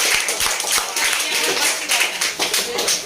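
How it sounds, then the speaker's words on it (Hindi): An audience at a Teacher's Day celebration at a defence career academy claps in a lively round of close, dense applause, with voices mixed in. "एक बार फिर से बढ़िया से ताली हो जाए"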